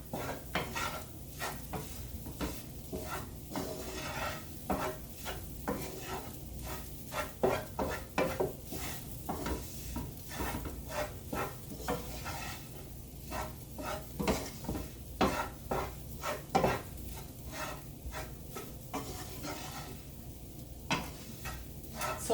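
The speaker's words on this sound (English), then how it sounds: "And stir it up." Chili powder is stirred into a pan with repeated rhythmic scraping and tapping strokes, quiet and close, over a faint sizzle.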